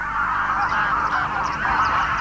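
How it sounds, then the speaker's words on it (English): Grey-lag geese honk repeatedly in a lively flock, the calls overlapping and steady throughout, loud and fairly close outdoors. "the grey-lag geese have come to stay"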